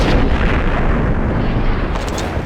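Bomb blast in the video game Max Payne: a loud, sustained explosive roar that fills the whole clip with dense rumbling, ending with a few sharper bursts near the close.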